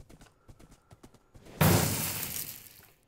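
Minecraft horse hooves in a UHC match: a run of quick, evenly spaced clip-clop steps, then a sudden loud crash-like burst that fades over about a second and a half.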